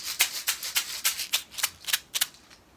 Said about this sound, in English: I have next to it some fish gravel from one of my kiddos' fish tanks.